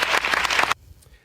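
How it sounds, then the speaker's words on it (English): One man claps for himself, a quick run of close, loud hand claps lasting under a second before stopping abruptly into near silence. "Let me applaud myself,"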